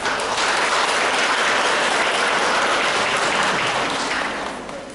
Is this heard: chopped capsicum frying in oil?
no